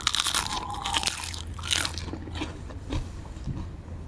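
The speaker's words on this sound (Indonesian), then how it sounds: "Kriuk banget kan?" Crispy fried snow sausage snack gets bitten into with loud, close crunches, followed by several quieter chewing crunches in a kitchen, with no talk.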